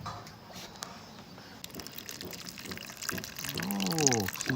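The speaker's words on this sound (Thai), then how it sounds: "เฮาเทน้ำใส่แล้วก็เฮาจังมาบีบใส่" Water poured over pounded leaves that are then squeezed by hand for bamboo shoot curry, heard as a faint, continuous wet splashing and trickling that grows a little louder toward the end, with no talking.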